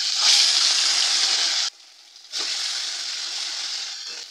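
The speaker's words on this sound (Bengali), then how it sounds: "এবার আমি একে একে মাছগুলো তেলের মধ্যে দিয়ে দেবো।" Small fish fried in hot oil in a kadai, with a loud, bright sizzle that cuts off for a moment and then resumes with another burst of frying, close and steady with no talk.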